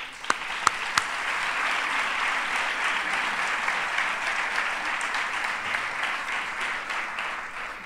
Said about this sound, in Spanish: Así que yo voy a pedir un aplauso para ellos también